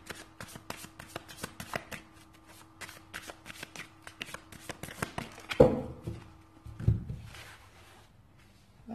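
An angel oracle card deck being shuffled by hand: steady quick riffling and tapping of cards, close and soft, ending in a few firmer taps as the deck settles.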